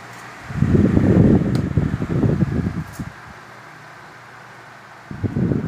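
A repaired electric fan, fixed after a cold solder joint, runs with a steady hum and low rumbling whir that swells for several seconds, drops away, then starts again near the end.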